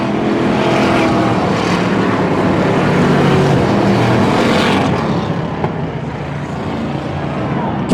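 A full field of stock cars gets underway at the Turkey Classic in Pearsonville, California, a loud, dense wall of engine roar holding steady throughout, with the noise thinning slightly near the end.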